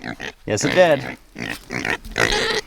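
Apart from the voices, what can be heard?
pigs grunting and snorting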